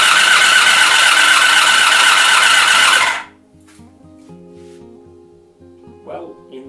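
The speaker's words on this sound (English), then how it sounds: "let's see if we can get her to crank" A 1984 Honda VF750F motorcycle engine cranking on its starter: a loud, dense, steady whirring grind for about three seconds that cuts off abruptly, followed by quiet ticking and faint background sounds.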